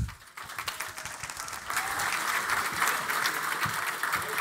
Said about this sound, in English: All right, give her a round of applause.